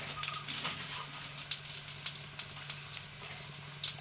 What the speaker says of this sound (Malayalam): ഇത് ഫ്രൈ ആയി വരട്ടെ.